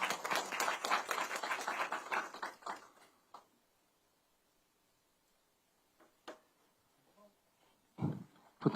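An audience claps at a political candidates' policy forum, a burst of moderately distant applause that fades out over about three seconds, followed by near silence with a few isolated knocks.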